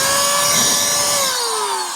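A rechargeable electric canned-air duster with a USB charging cord blows steadily. Its high whine holds for about a second, then slides lower as the motor spins down, loud and close.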